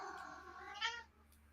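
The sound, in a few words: cat meowing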